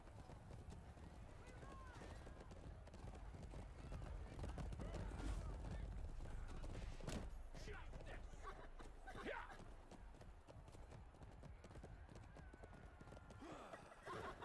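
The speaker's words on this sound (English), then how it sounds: "Go, horse, go!" Rapid hoofbeats of a galloping horse in the video game Chivalry 2, steady and continuous, with a whinny and shouting voices mixed into a loud, busy scene.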